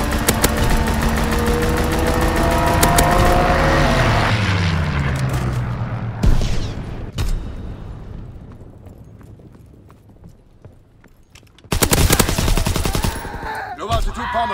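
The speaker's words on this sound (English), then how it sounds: "Fighter pilot inbound, strafing the target." A fighter plane makes a strafing run with machine guns in the Call of Duty: WWII team deathmatch map Sainte Marie du Mont: a loud rattling roar, a descending engine whine, scattered booms, a quieter lull, then another burst of firing.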